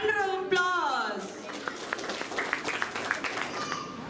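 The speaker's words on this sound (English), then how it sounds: "please welcome them with thunder of applause" An audience at a school performance event in Bangalore claps in scattered, uneven bursts that carry on for several seconds. Someone speaks over the first second of it.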